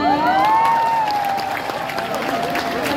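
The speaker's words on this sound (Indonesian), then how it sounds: "bisa kali kasih tepuk tangan" An audience at a public town gathering in Purwokerto claps in a lively crowd burst, with whoops and a high cheer that slides upward at the start, then settles into steady applause for three seconds.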